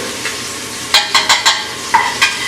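Onions, minced garlic and grated ginger sizzling in a pan under a steady hiss, with a series of five or six sharp scraping stirs, loud and close.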